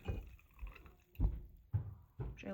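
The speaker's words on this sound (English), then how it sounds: "we're just going to pour it into our cup because our matcha is done" Frothy whisked matcha poured from a spouted bowl into a cup, heard as a few soft, close liquid splashes and drips in short bursts, with no talking.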